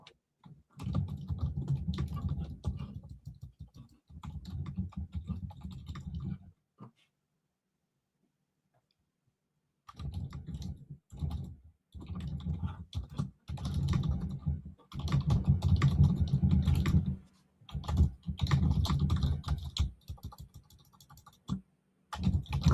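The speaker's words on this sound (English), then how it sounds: "Oh, I'm typing." Rapid, close keyboard typing in bursts, with a short pause before the clattering resumes steadily.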